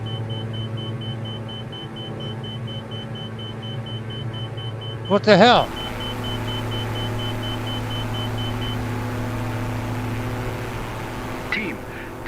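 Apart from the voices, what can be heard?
stall warning beeping in a flight simulator video game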